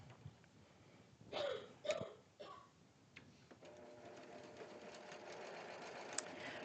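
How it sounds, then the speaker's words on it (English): A sewing machine stitches two fabric pieces together, starting with a few short bursts and then settling into a steady, continuous whirring run. The sound is quiet and close. "And we're going to come over here to the sewing machine. And we're going to sew these two pieces together."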